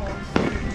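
A single sharp firework cannon blast cracks out once amid outdoor background noise on New Year's Eve, brief and punchy.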